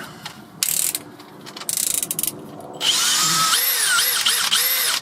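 Power drill fitted with a pilot bit working on a car, in short loud whirring bursts that stop and start, ending in a longer sustained high-pitched spin with a wavering tone.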